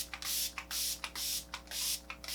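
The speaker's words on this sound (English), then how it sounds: "we're gonna go in with the Shades by San, the setting spray" A fine-mist setting spray pumped over a face in four quick bursts, each a close, airy hiss with a small click at the start, evenly paced with short pauses between.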